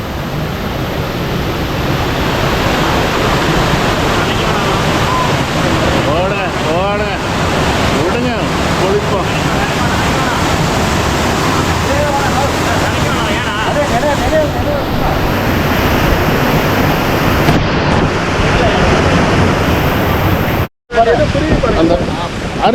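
Hogenakkal waterfall gushing and pouring over rocks, a loud, dense, continuous roar of rushing water close by, steady throughout with a brief drop near the end.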